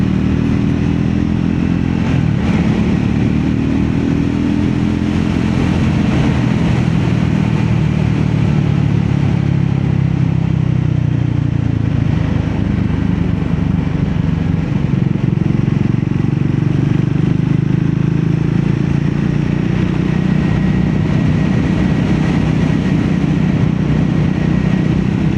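A Scrambler 400X motorcycle rides through village traffic, its engine a continuous close drone that swells and eases with the throttle, mixed with road and wind noise.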